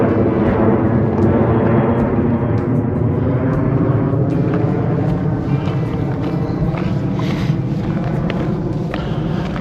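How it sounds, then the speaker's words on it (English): An airplane passes overhead near an airport along a countryside walk, a loud, steady broadband roar that dominates the whole stretch with faint wind buffeting and no voices. "probably going to hit a lot of airplane traffic today"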